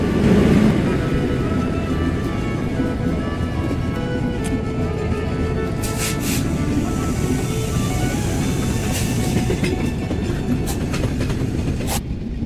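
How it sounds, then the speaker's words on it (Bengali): The Chilahati Express intercity train runs on rails, a loud continuous rumble and rattle of wheels and carriages from on board, with occasional sharp clanks and knocks near the end. "আন্তনগর ধূমকেতু এক্সপ্রেসকে দাঁড় করিয়ে এগিয়ে চলছে চিলাহাটি এক্সপ্রেস।"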